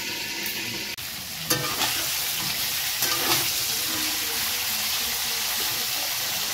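Cauliflower florets frying in hot oil, a steady crackling sizzle with occasional stirring scrapes and bumps, close and continuous throughout.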